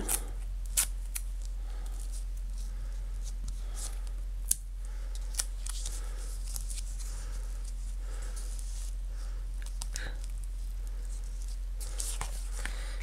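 Scissors snip repeatedly at close range cutting paper for a greeting card, sharp irregular cuts over a quiet low hum, with small rustles between them.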